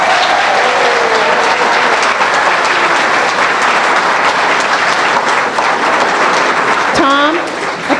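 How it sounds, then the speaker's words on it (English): Applause for the teams at a library trivia challenge rolls on as dense, loud, continuous clapping from a crowd, with a voice briefly heard near the end. "How about a nice round of applause for all of them?"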